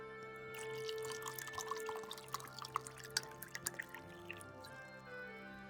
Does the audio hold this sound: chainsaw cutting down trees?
no